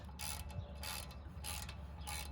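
A retaining screw is unscrewed from a brake rotor on an Alfa Romeo Giulia Quadrifoglio during a big brake upgrade. Faint, close ratcheting clicks come in four regular bursts.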